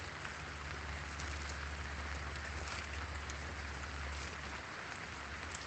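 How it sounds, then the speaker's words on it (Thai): Heavy rain pours down at home during a live stream, a dense, steady hiss of drops striking surfaces, loud and unbroken from start to finish with no voices. "ฝนก็มาตกแบบนี้นะคะ"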